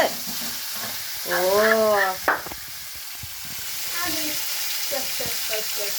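Vegetables sizzle steadily in a hot pan as noodles are stir-fried and tossed, a close, continuous frying hiss with scraping stirs, while voices speak over it.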